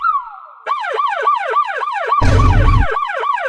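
A person imitates a police car siren with their voice: a loud, close warble in quick repeating rises and falls, with a short burst of harsh noise partway through, in a Hindi cartoon.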